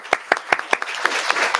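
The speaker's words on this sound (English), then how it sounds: "I just want to applaud you once again" Audience members clap at a board of trustees meeting, a brief scattering of distinct hand claps in a steady rhythm that blurs into light applause in a room.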